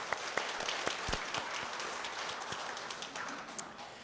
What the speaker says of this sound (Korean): 우리 큰 박수로 격려해 주시면 좋겠습니다